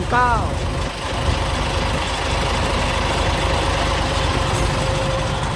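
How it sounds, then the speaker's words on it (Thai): A Hino Victor 344 sand-hauling dump truck with an A094 engine and Hino M009 gearbox idles in a steady, close, even rumble that stays loud throughout, with a brief whine near the start. "นี่ครับเครื่อง A094 344มากับเกียร์ฮีโน่ M009"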